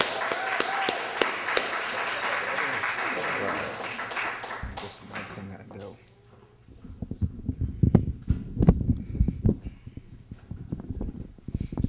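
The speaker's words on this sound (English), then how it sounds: "let's give Brother Jesse Wiley a great round of applause" Clapping from the audience at a poetry reading in a library, a dense broadband patter for about five seconds, then a pause, then sparser sharp taps and thumps.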